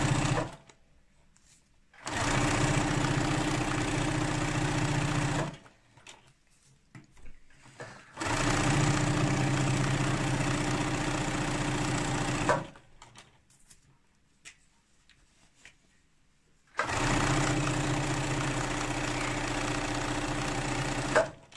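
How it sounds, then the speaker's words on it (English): A sewing machine stitches the seam of a fabric drawstring scrub wash bag in three steady, close whirring bursts of a few seconds each, with quiet pauses between them. "And then sew right up to that middle seam stitch."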